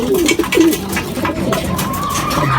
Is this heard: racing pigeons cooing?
yes